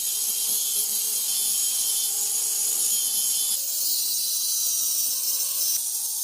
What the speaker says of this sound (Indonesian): Setelah tercoret maka bentuklah dengan gerinda halus nomor 2 mengikuti coretannya.